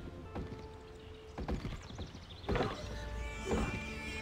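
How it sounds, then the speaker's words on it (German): Hollow wooden chops and thunks as a tree is felled in The Bonfire 2: Uncharted Shores, a mobile game. Several spaced knocks are heard, and the last two land heavier, set against a quiet game background. "Boah, jetzt wird der Baum weggefällt."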